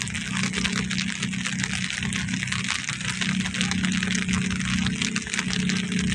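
A boat engine on Manila Bay drones steadily throughout, with a constant low throb and the wash of water underneath.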